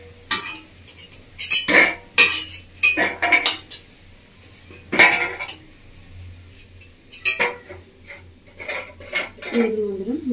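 Fried prawn fritters lifted out of a pan with metal utensils: a series of close, sharp clinks and scrapes of metal on the pan in irregular bursts, with quieter gaps between them.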